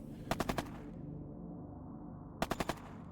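Combat gunfire from an attack in the strategy video game Shadow Empire: two quick bursts of four sharp shots each, loud and close, at the start and near the end, with a low rumbling game background between them.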